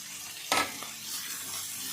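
Boiled broccoli and vegetables hit a hot pan for white sauce pasta, a sudden burst of sizzle followed by a soft, continuing fry, brief and close with no talking.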